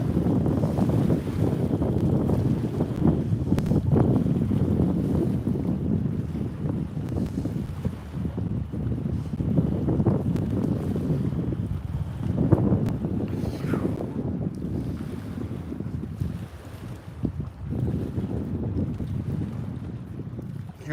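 Strong wind rips across the microphone outdoors on an icy day of blue catfishing, a continuous loud roar that gusts and swells in waves with no voices.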